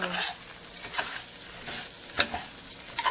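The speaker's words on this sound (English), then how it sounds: "Just keep turning the rice. Just want to get a little brown." Rice being stirred and turned in a hot pan as it browns for Spanish rice, with a steady sizzle and a few scraping spoon strokes, close and alone.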